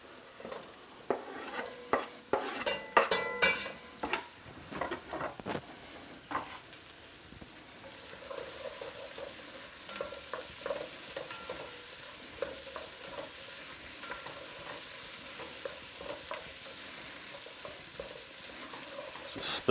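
Tomato is stirred into sizzling onions in a pot of lamb and chickpea curry, with a busy stretch of loud spoon scrapes and clatter, then a steady close frying hiss with lighter stirring.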